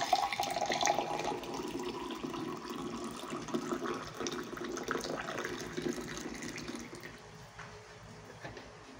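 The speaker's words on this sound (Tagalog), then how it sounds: "Ay, hot water sa ating coffee." Hot water pours steadily into a cup of coffee as a continuous close splashing gush, fairly loud at first and easing off slightly toward the end, with no talking.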